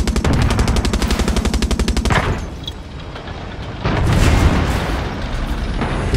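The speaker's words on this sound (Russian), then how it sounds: "я все еще слышу взрывы" Rapid machine-gun bursts and heavy explosions from the Far Cry 6 video game, loud and dense with a booming blast midway, then continued rumbling gunfire.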